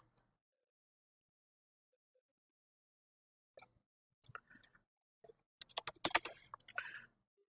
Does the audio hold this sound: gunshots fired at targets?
no